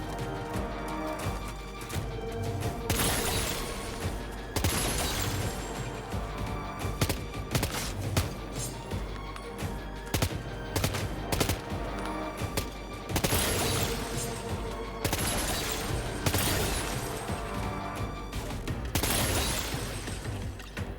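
Rapid bursts of gunfire crack and rattle in Death Stranding 2 as targets are shot, loud repeated volleys with short gaps, mixed with thumps and mechanical clatter.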